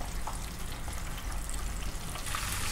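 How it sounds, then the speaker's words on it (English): Chicken drumsticks frying in oil held at about 300 degrees, a steady dense sizzle with soft crackling that runs unbroken at close range, with no talking over it. "We're gonna start to fry it up."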